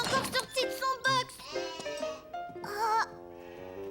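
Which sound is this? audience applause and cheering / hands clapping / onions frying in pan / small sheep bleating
small sheep bleating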